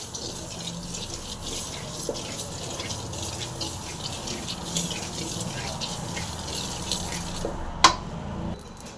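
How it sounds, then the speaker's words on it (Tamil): Mustard seeds frying in a hot pan pop in quick, scattered crackles, close by, with one sharper click near the end. "கடுகு பொறி தெரியும் நமக்கு."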